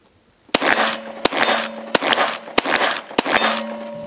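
Five loud, sharp Glock 17 and M&P 9 pistol shots fired at a steady pace, each a sudden crack followed by a ringing metallic tail, starting after a brief quiet.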